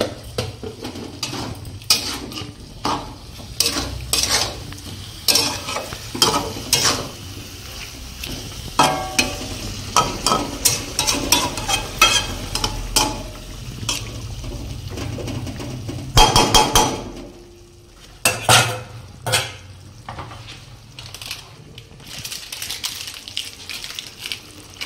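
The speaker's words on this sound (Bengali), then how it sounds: "এবার এটাকে কষানো হবে।" Chicken pulao masala is stir-fried in a pan with a spatula, brisk metallic scrapes and knocks in uneven bursts over a low sizzle, close and loud, briefly pausing near the end.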